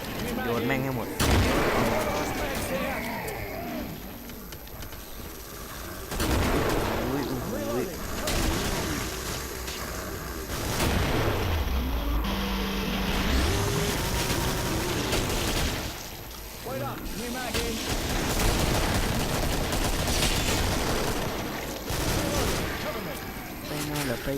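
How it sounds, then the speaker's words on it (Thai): Grenade explosions and rapid gunfire in the video game Killing Floor 2, loud bursts and booms recurring throughout, mixed with game effects and a player talking excitedly over the action. "โยนระเบิด"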